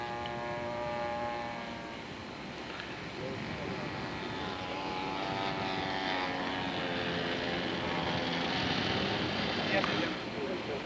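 A radio-controlled scale model airplane with a propeller engine flies a military roll, its engine drone holding steady and rising and falling in pitch as it passes. Someone talks over the engine noise.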